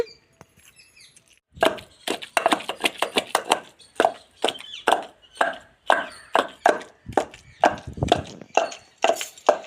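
Cumin seeds being pounded in a mortar for ivy gourd coriander chutney, with a run of sharp, close, regular thuds at roughly two or three strikes per second after a quiet opening.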